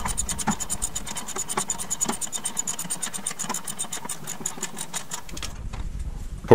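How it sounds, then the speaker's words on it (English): A ratchet tightens the caliper bracket bolts onto the spindle of a Chevy truck front hub, making a steady run of quick, close metallic clicks that stops abruptly near the end. "install the bolts to hold the caliper bracket to the spindle and wind those in"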